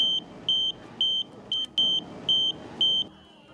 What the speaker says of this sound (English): electronic Easter eggs that emit a beeping sound